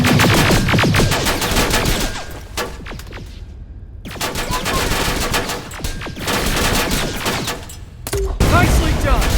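Turret fire in the Terminator Resistance video game, loud rapid bursts of automatic gunfire in several volleys with short gaps, close and harsh, ending in a heavy burst.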